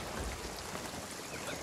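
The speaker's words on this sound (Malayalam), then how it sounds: "പുറത്ത് നല്ല മഴ." Heavy rain falls outside as a steady, even hiss of dense drops, faint and continuous with no talk over it.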